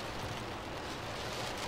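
Steady rain in the video game Fear 3, a continuous broadband hiss with no other distinct sounds, heard alone for a couple of seconds.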